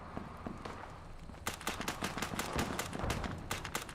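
Rapid bursts of gunfire in the video game Fallout 76, a quick string of sharp shots clustered in the second half, fairly faint against a quiet background.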